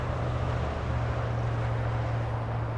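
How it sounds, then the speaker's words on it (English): A JetBlue Airbus A320 jet airliner at Los Angeles International Airport gives a steady, low engine rumble with broadband roar, continuous and moderately distant throughout. "JetBlue heading down south, heading to San Jose del Cabo. That's an A320."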